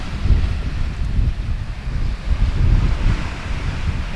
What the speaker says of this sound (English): hear it over the breaking waves